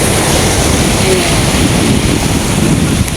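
Broad, steady wash of sea surf rolling onto a wide sandy beach in La Union, Philippines, mixed with wind rumble across the microphone; continuous and fairly loud with no clear individual wave breaks.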